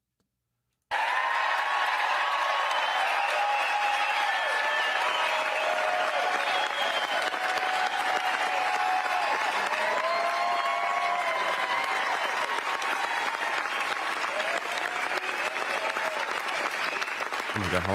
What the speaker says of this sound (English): how long is this fucking applause?